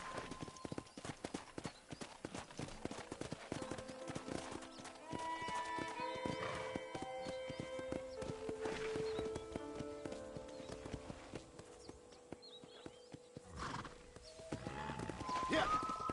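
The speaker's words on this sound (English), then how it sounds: "I picked out a fine horse for you." Horse hooves clip-clopping at a steady walking rhythm in the Western video game Red Dead Redemption, close and continuous, with game music, an occasional whinny and a character talking over the hoofbeats.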